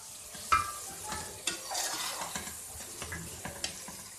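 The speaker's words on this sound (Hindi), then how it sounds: "अब हम इसमें मटर डाल देंगे" Green peas tipped into softened tomatoes in a hot pan for matar pulao, sizzling steadily while a spoon stirs and scrapes in irregular knocks and rattles, close and moderately loud with no talking.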